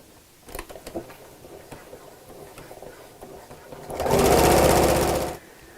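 A sewing machine stitches bias binding around the edge of a fabric travel jewellery case, first in short stop-start bursts, then in one loud, steady run of rapid stitching that ends abruptly.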